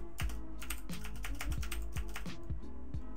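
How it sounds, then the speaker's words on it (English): Keys clacking on a computer keyboard while a password is typed, a steady run of crisp, close taps with a low thump under some strokes and no voices. "You're gonna want to type your password."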